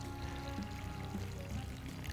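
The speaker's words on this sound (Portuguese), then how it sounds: "Então, eu coloco a maior parte da água" Water poured steadily from a container into bread dough for sweet hot cross buns, a continuous soft splashing stream heard up close with no talk.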